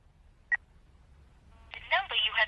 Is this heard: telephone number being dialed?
yes